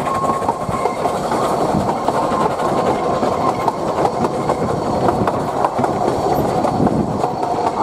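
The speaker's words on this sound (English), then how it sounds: "And the train just made a whole balloon loop." A train runs along rails through a balloon loop, its steady rumbling roll and repeated clickety-clack of wheels over rail joints filling the clip loudly and without pause.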